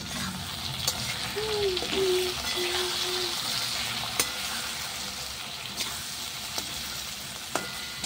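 Rohu fish frying in a pan with salt, coriander, turmeric and cumin powder gives off a steady close sizzle and hiss, marked by a few faint scrapes and clicks, with a brief tonal whine early on.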